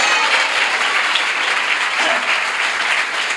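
Church congregation claps together in a steady, dense burst that holds at an even volume throughout, with no talking over it.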